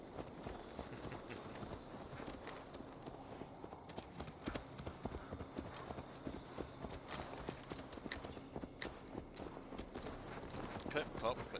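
Horse hooves clip-clop steadily in Assassin's Creed Valhalla as the horse walks through a settlement, a fast, even patter of hoofbeats under ongoing talk at moderate volume.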